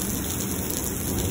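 Heavy rain pours during a thunderstorm in Lubbock, Texas, a dense, even hiss of drops hitting surfaces, steady and close with no voices over it.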